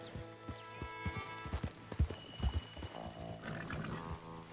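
Several horses walking, their hooves clip-clopping in a loose rhythm that grows louder midway, with a faint snort or whinny near the end and no talking.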